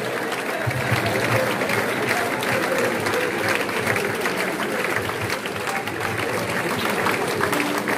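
Church congregation applauding in acclaim, a dense, steady wash of clapping from a large crowd that fills the room continuously, with faint voices mixed underneath.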